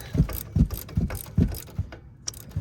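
Ratcheting clicks from a wrench backing a 21 mm nut off a front shock on a 2024 Ford F250 during a Fox 2.0 shock installation, close and fairly loud, in a quick uneven rhythm of repeated bursts with a short pause near the end.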